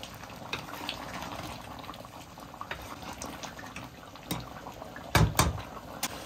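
Water simmers and boils off in a karahi with ginger garlic paste and tomatoes, a soft continuous bubbling and sizzle with a few louder spits and pops near the end, heard close with no talking.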